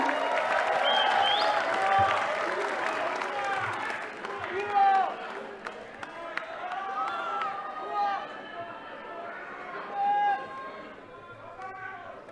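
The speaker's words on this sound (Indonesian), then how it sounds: "Berikan tepuk tangan yang meriah." A large crowd at an Indonesian presidential campaign declaration claps and cheers steadily throughout, with a loudspeaker voice talking over the applause.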